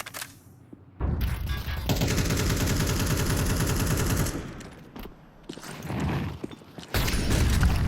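Rapid automatic gunfire volleys in a Counter-Strike match, loud continuous bursts with short gaps and overlapping shots, punctuated by brief pauses and mechanical clicks.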